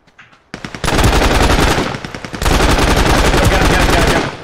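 Light machine gun fire in an online shooter game rattles out in long, loud sustained bursts, a brief stuttering volley first, then two extended continuous strings of rapid shots, close and dominant.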